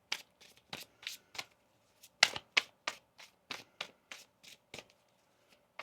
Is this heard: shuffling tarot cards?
yes